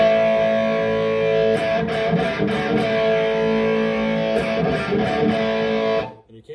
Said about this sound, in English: we're cutting a lot of the top end out of the guitar itself